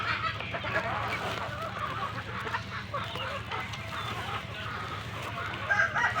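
Gamefowl rooster crowing among clucking hens and pullets in a breeding yard, calls rising over steady farm background, fairly close and moderately loud.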